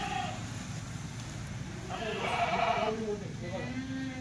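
Kathiawadi goats bleat in a pen, one drawn-out bleat standing out against a steady murmur of livestock and low background noise, with people talking nearby.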